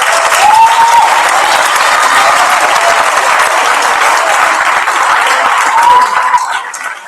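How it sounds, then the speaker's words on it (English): Audience at a secondary school prizegiving applauding, a loud, dense, sustained burst of clapping that holds steady for about six seconds before tapering off at the end. "Can we have a round of applause for the people who will be leaving us,"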